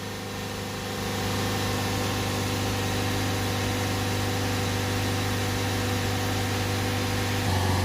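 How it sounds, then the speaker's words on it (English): Steady diesel engine of a Ford Transit Custom 2.2 van with a DPF and MAF fault idling close by with a constant low drone, rising slightly in pitch as it is revved a little, then settling. "we've given it a few revs up and down there"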